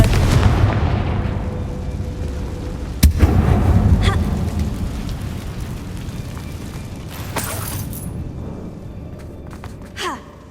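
A Confringo fire spell bursts with a sharp blast inside a closed mine tomb in Hogwarts Legacy, followed by rumbling debris and a second fainter crack near the end, loud and close.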